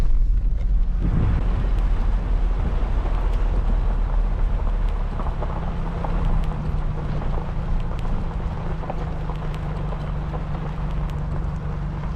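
Steady, soft patter of light rain falling outdoors at a safari campsite in Dinokeng, a continuous hiss with scattered drips and a faint low hum underneath.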